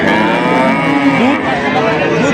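A dairy cow, offered with her calf at a cattle market, moos loudly and close by in a long, drawn-out call with rising and falling pitch, with market bustle and voices underneath.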